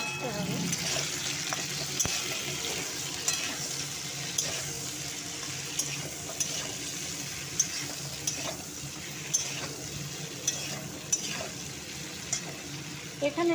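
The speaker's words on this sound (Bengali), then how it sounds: "দিয়ে ভালো করে ভেজে এটা হালকা আঁচে ভাজতে হবে" Food fries in a pan over low heat, a continuous soft sizzle with stirring and scraping throughout, heard close up.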